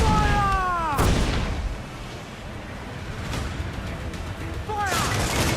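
Ship cannons fire in Assassin's Creed 4 Black Flag, two booming blasts several seconds apart with a rumbling din between them, the second mixed with a shouted voice.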